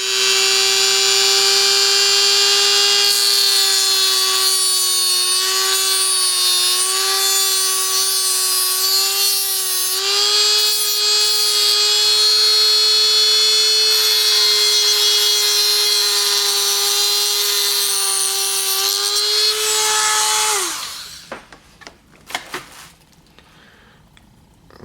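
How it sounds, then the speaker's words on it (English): A small rotary tool with a cutoff disc whines steadily at high pitch for about twenty seconds while cutting door panel clips on a 1973-87 Chevy C10, close and loud, then spins down and stops, followed by a few faint handling noises. "I'm just gonna take a little rotary tool with a cutoff disc, and we're gonna cut it right there"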